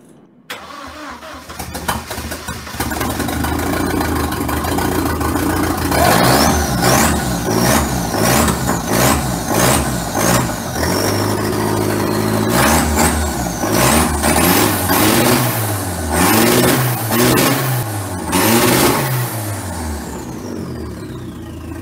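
Audi car engine cranking, catching and starting, then revved repeatedly in loud rising-and-falling bursts, running rough as if missing cylinders, with no talking over it.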